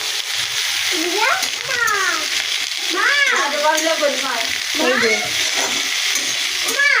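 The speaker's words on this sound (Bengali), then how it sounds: "এই যে ডিম সিদ্ধ করতে দিয়েছি ডিমের ঝোল নাড়বো" Egg curry being stirred in a pan, a steady frying hiss with scraping strokes running throughout, while high, sliding voice-like tones rise and fall over it in the background.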